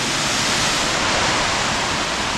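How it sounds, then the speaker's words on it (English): Licklog Falls, a waterfall on the Chattooga River, roars in a loud, steady rush of falling water that fills the scene without a break. "This is the upper part of Licklog Falls."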